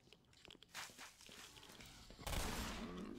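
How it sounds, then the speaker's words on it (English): Double-barrel shotgun blasts in the Black Mesa game, a few sharp shots early, then a louder, dense burst of gunfire and noise in the second half, with no talk. "Double barrel shotgun."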